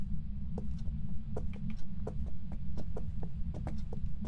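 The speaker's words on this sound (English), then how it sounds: "I just heard the heartbeat." A slow, steady heartbeat thumps with faint clicky pulses over a constant low droning hum, no voices, in the ghost-hunting video game Phasmophobia.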